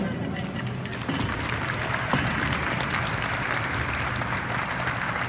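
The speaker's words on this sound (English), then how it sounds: "Let's give him a clap, give him a hand." Crowd at a B&O Railroad turntable demonstration clapping steadily for a worker after the turntable is pushed, a dense, even patter of applause at moderate volume, with some voices mixed in.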